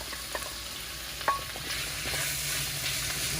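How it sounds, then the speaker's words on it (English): Baby portobello mushrooms fry in a hot skillet, giving a steady close sizzle with a few stirring scrapes and clicks, and no talking. "So now into this skillet, I'm going to throw in some mushrooms"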